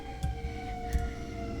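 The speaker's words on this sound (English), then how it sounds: "there is sirens going off in the background" Emergency sirens wail faintly in the background, a steady high tone over low traffic rumble, with a couple of brief thumps and no talk.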